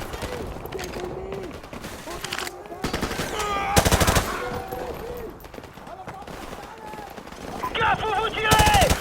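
Rapid automatic gunfire and bursts of shots fill a Call of Duty Modern Warfare battle scene, loud and dense, with shouted voices and game sounds mixed in.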